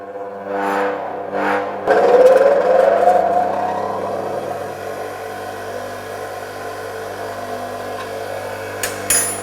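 A bench grinding wheel on a lathe workshop bench switched on: a rising whir as the motor spins up after a couple of knocks, then a steady humming drone that continues, with a sharp clatter near the end.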